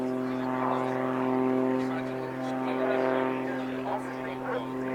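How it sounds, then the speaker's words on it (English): Propeller aircraft hanging on its prop at the Cosford airshow, a steady droning engine hum with strong tonal whine that swells and eases slightly, heard from a distance under light crowd noise. "Now Rich hangs the aircraft on the prop."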